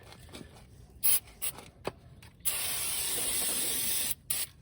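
Brake cleaner sprayed from an aerosol can onto a 2005 Ford Explorer XLT rotor: a few short hissing bursts, then one long, loud, close spray of about two seconds, followed by a final quick burst.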